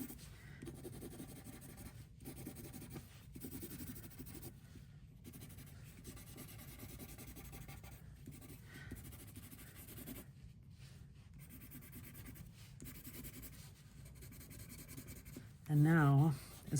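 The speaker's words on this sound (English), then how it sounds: "I'm gonna go ahead and start to blend that pencil" Graphite pencil scratching and rubbing on paper, steady soft strokes of drawing and blending that run continuously at close range and low level, with a brief louder knock near the end.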